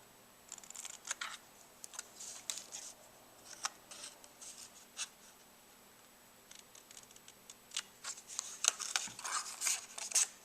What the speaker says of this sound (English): Let's just cut these pieces off.